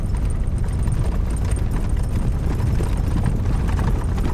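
An RV rattling over a washboard dirt road, a continuous low rumbling judder with rapid, uneven thumps and vibration from inside the vehicle, loud and unbroken throughout.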